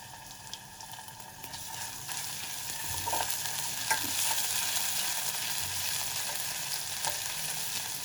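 Onions with ginger and garlic fry in a pan for a pizza sauce, giving a soft continuous sizzle with scraping stir strokes that grow a little louder partway through.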